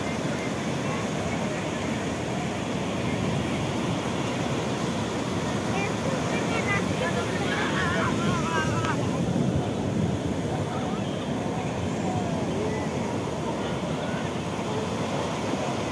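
Tall ocean waves roll and break at Puri beach, a steady broadband roar with wind buffeting the microphone, while people talk faintly under the surf.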